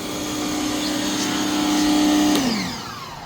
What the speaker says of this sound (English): let me shut it off.